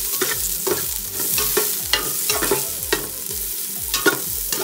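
Onions fry in a pan with a constant close sizzle, while a utensil stirs and scrapes them in a regular repeating rhythm roughly twice a second.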